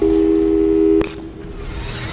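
A steady telephone call tone plays in a video game, one flat sustained beep lasting about a second before cutting off sharply into quieter background noise.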